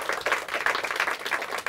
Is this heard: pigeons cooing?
no